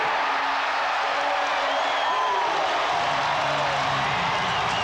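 A 1992 basketball arena crowd roars steadily for the Blazers against the Bulls, a dense, continuous wash of cheering and whoops that fills the whole stretch.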